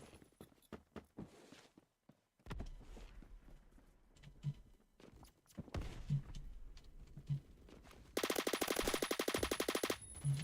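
Gunfire from a gun in the video game Phantom Forces: scattered single shots and short bursts, then a loud, sustained rapid-fire stream near the end, with a few footstep-like taps between.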